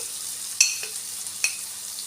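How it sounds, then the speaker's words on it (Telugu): Tomatoes cooking in a pan with ginger garlic paste and turmeric, a soft steady sizzle with two sharp stirring clinks and a faint scrape, no talking. "టమాటాలు ఇలా ఉడికినాక పావు టేబుల్ స్పూన్ పసుపు అల్లం వెల్లుల్లి పేస్ట్ వేసుకుందాం"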